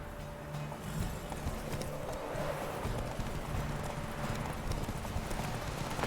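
Horse hooves in The Witcher 3 on Nintendo Switch, a steady rapid clip-clop of galloping carrying on throughout at moderate loudness, with game ambience underneath.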